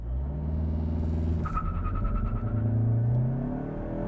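A Mazda 6 engine rumbles and rises in pitch as it accelerates, with a steady whining drivetrain howl building over the low roar, no talking.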